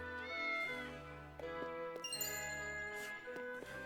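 A cat meows in the video game Triangle Strategy, its short calls set against tinkling in-game music with no talking.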